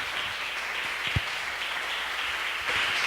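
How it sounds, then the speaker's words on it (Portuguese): Church congregation applauding during a service, a dense, even wash of clapping that fills the room at moderate volume, steady from start to finish. "Aplauda o Senhor em nome de Jesus."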